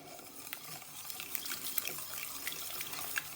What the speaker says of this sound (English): you're going to slowly add your milk